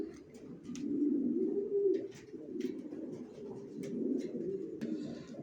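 A pair of racer pigeons coos softly and repeatedly close by, with low throaty rolling calls rising and falling in waves, along with a few faint clicks and rustles.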